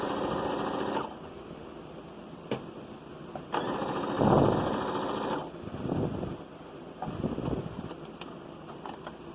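A sewing machine top stitching children's overalls runs in two short, fast mechanical bursts, a brief one at the start and a longer one a few seconds later, with quieter handling noises and clicks between them.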